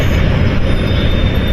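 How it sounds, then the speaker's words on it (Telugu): A metro train near an elevated station in Erragadda rumbles steadily and loudly, a continuous low roar with rail noise filling the whole stretch and no voices over it. "మెట్రో స్టేషన్ దగ్గర ఉన్నాం మనం."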